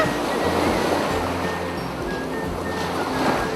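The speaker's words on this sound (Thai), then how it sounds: "ใช่แล้วล่ะค่ะ เราอยู่กันที่ทะเลนั่นเอง" Ocean waves at a beach wash in steadily, giving a continuous close surf rush with no voices over it.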